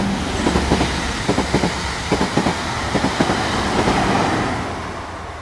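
Moving train rolling along at speed, with repeated clickety-clack wheel beats over the rail joints above a steady low rumble, used as a sound effect in a Hindi horror audio story; no voices.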